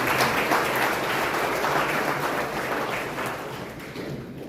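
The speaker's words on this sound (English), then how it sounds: "I believe they deserve a round of applause" A large crowd at a tourism awards gala claps loudly and steadily. The dense applause fades slightly toward the end.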